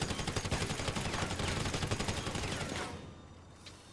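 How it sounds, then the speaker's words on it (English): Minigun fire in GTA Online: a sustained, rapid stream of shots with a fast even rhythm, loud and close for about three seconds before cutting off into quieter background. "He was just constantly shooting me with a minigun."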